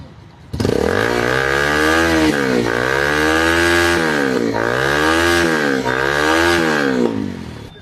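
A motorcycle with a modified silencer fires up and idles loudly nearby, its raspy exhaust note rising and falling through several rhythmic revs before cutting off.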